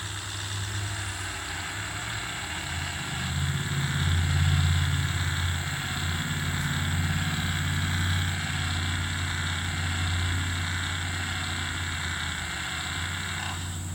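A 6.7 diesel pickup truck engine runs steadily and close by with a low, continuous rumble that swells slightly partway through, and no voices are heard.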